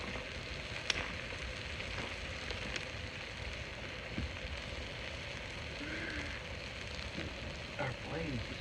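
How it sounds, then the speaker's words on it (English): A steak sears over a camp flame at a campsite, giving off a steady, quiet sizzle and crackle. Faint voices are heard in the background. "We want to get a good sear on the steak."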